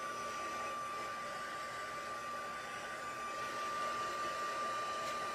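A crafting heat tool blows a steady, even whooshing hum with a faint high whine while drying rubbing alcohol and alcohol marker ink on 5 by 7 paper, constant and quiet with no talk.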